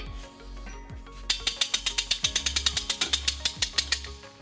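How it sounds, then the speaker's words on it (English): A trailer hitch jack ratchets a heavy hitch into place beneath a 2013 Toyota RAV4, giving a quick, regular run of sharp metallic clicks, close and clear after a brief low rumble. "Now we're ready to bring our hitch into place. We'll be using our U-Haul exclusive hitch jack."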